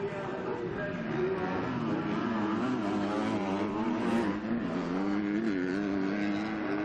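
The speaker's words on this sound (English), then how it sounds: "Moves across to avoid the pepper roost off the back of that Rockstar Energy Husqvarna" Motocross bikes, among them a Rockstar Energy Husqvarna, race at the MXGP of Germany MX2 event, their engines making a steady, droning high-revving whine that rises and falls slightly throughout.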